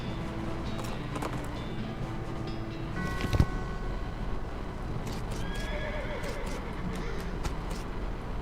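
Horse whinnies and clip-clopping hooves from the Western comedy role-playing video game West of Loathing, a neigh rising briefly mid-clip over steady game ambience, with hoof steps and a sharp thud, a voice faintly present underneath.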